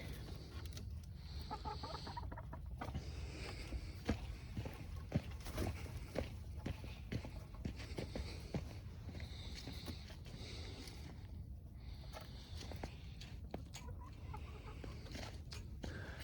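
Chickens, just awake to fresh snow, cluck softly and intermittently at a moderate distance, with faint shuffling and low background rumble throughout.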